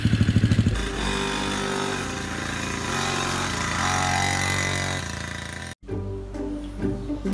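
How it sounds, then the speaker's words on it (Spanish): A motorcycle engine runs steadily and loudly. A rapid pulsing burst at the start gives way to a sustained drone that cuts out briefly near the end and then returns at a rougher, lower level. "¡Qué gran moto acabo de encontrar!"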